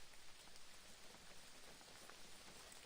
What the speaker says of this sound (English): You get to listen to some nice rain ambiance